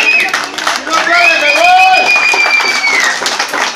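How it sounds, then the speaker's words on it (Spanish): Loud crowd clapping for a dancer at a lively performance, mixed with shouts and whistle-like cries from the audience throughout. "Mientras ustedes sigan aplaudiendo, Huitzilingüe sigue bailando."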